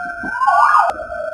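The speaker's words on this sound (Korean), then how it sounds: "방금 소방차가 지나갔습니다." A fire truck's siren sweeps up in a single loud, close wail that peaks and then fades, with no talking over it.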